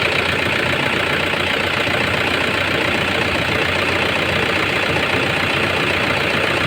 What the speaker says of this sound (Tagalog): okay na umaandar na tahimik yung under no? wala na yung crop crop